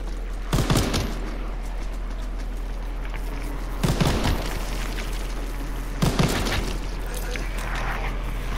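Gunfire from a gun in Call of Duty WWII Nazi Zombies, three loud booming bursts spaced a few seconds apart over a steady low hum, with a voice talking between them.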